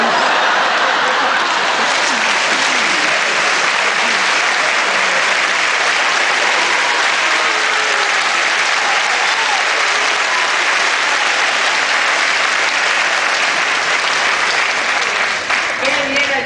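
A large crowd gives a sustained ovation, thick, roaring applause that fills the whole stretch at a steady, loud level, with some voices in the crowd mixed in.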